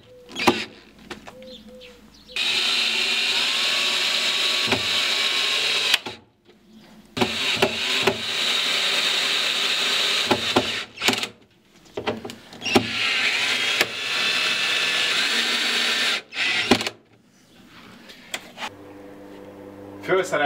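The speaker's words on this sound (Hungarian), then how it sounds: "ezért abból flexelni kellett." An angle grinder cuts through the overly wide mounting plates of metal door hinges while building a rabbit hutch, a loud steady whine running in long bursts of several seconds broken by short pauses and clunks.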